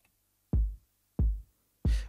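Three deep, boomy low-end kick drum hits from a sample used in a song arrangement, evenly spaced about two-thirds of a second apart, each a punchy thump with a short decaying tail, alone and close.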